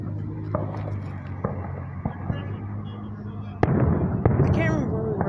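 Fourth of July fireworks bursting outdoors: scattered faint distant pops, then a sharp louder bang followed by crackling and fizzing, with people chatting throughout.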